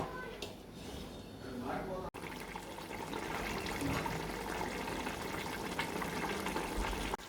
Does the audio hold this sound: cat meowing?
no